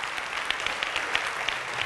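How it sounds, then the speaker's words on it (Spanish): Congregation applause during a bilingual church sermon, a dense, steady crowd clapping at moderate loudness that fills the short stretch, with faint sharper claps and no clear speech. "dale un aplauso al Señor"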